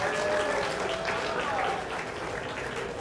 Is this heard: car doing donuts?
no